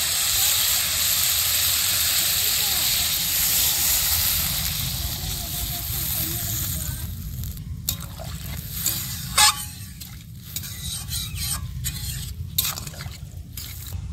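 Water is poured into a pan of frying puti fish curry masala for a thin fish curry with potato and pointed gourd, giving a loud steady hiss and bubbling steam that eases off, then sputters and crackles with a few scrapes.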